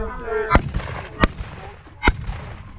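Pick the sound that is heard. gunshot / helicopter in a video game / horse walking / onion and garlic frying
gunshot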